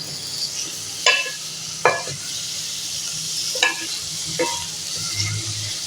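Green chillies and tomatoes sauté in a pan for an aloo chicken curry, a soft continuous sizzle broken by four or five sharp scrapes and clinks of a spatula stirring.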